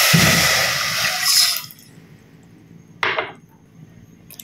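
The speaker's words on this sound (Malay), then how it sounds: "Tuangkan 1 cawan air." A cup of water is poured into a pot with pandan leaves, a loud splashing gush lasting about a second and a half, followed by a short second splash moments later, close up.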